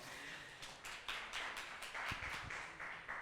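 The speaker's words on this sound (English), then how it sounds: "Round of applause for Nigel" A small audience claps for a student presenter from Fairfield Methodist Secondary School at a youth award ceremony, a quiet patter of hands with a few louder rhythmic bursts over about three seconds.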